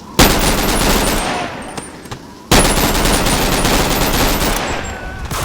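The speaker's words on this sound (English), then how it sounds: "I can hear a lot of gunshots, by the way." Rapid, dense gunfire in long sustained bursts with a brief pause between, loud and close, like automatic weapons firing continuously, in a video game.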